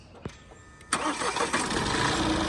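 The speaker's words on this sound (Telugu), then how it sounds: "సింగిల్ సెల్ఫ్లో బండి స్టార్ట్ అవుతుంది సార్" A 2017 Mahindra TUV300 T8 automatic engine cranks and catches on a single self-start, a short click followed by a burst that settles into a steady idle.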